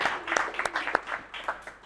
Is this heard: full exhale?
no